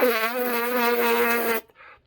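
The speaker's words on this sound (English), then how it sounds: "You can hear that sounds kind of like it would if you buzz through the mouthpiece" A trumpet player's free lip buzz without a mouthpiece, supported by the tongue: a steady, reedy, buzzing tone held for about one and a half seconds, then cut off, followed by a short faint buzz.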